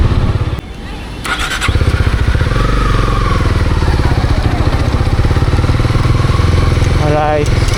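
Honda CB300R motorcycle on a road commute, its engine starting and then running with a steady, close, loud throb that continues to the end, without any talking.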